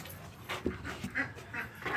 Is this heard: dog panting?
yes